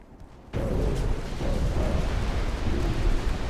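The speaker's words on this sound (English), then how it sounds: "That was a fantastic torpedo attack." Torpedoes strike a warship in Ultimate Admiral Dreadnoughts, the hits arriving as a sudden heavy explosive roar that holds loud and rumbling to the end, with no talk.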